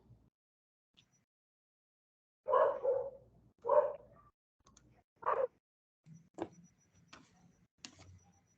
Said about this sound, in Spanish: perdonen si están viendo, escuchando a mi perrito más bien